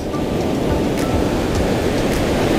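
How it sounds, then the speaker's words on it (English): Surf waves break steadily on a beach where someone is fishing for surf perch, a continuous loud wash with no voices. "We got a wave breaking there, right behind it,"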